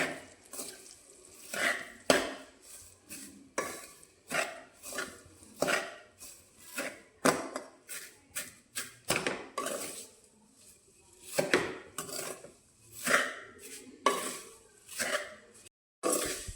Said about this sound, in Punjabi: ਗੈਸ ਦੀ ਫਲੇਮ ਘੱਟ ਰੱਖਾਂਗੇ ਤੇ ਲਗਾਤਾਰ ਹਲਾਉਂਦੇ ਹੋਏ ਨਾਲ ਆਪਾਂ ਭੁੰਨ ਲੈਂਦੇ ਆ